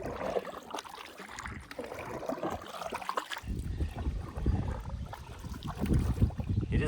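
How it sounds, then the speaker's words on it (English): A canoe paddled across open lake water in Woodland Caribou wilderness toward the Wanipigow outlet, with continuous watery swishes and splashes from the strokes plus some wind, close and without talk. "Paddling to the Wanipigow outlet."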